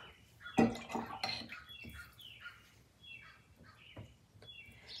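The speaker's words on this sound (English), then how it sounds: "We got all the birds out there today, gee." Outdoor birds call repeatedly in a backyard, with a series of short, clear descending chirps spaced about half a second apart, faint and distant, plus a brief louder clatter near the start.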